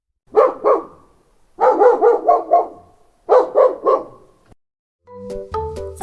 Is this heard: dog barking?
yes